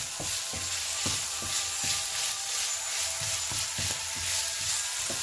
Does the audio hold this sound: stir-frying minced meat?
yes